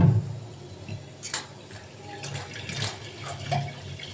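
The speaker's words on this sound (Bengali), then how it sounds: "আমি প্রেসারের মধ্যেই একটু জলটা নিয়ে নিচ্ছি" A small amount of water poured into a pressure cooker to loosen potato stuck inside, a light splashing trickle with a few metallic clinks, close and moderately loud, under a faint hum of kitchen background.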